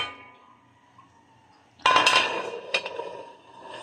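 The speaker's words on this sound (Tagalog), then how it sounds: "Ayan, takpan natin guys." A metal lid goes onto a cooking pot of beef sinigang with a sudden clang, followed by a second lighter clink a moment later in a quiet kitchen.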